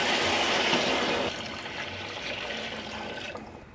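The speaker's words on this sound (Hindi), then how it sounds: "तो अब मैं इसमें यखनी डाल दूँगी" Mutton broth (yakhni) pours into fried masala in a pot, a loud rushing splash for about a second, then settling into a softer bubbling gush of liquid.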